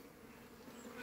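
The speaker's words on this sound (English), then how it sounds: "Ah, they be buzzing me." Honey bees buzz around a beehive, a soft continuous hum with a few individual bees droning close past, faint and steady over a brief moment with no talk.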